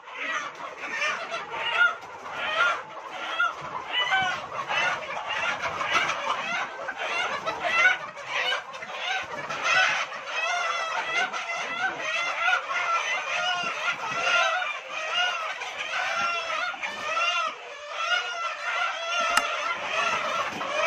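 Many desi chickens at a poultry shop cluck and squawk continuously as a busy, crowded flock, with occasional crowing and honk-like calls mixed in.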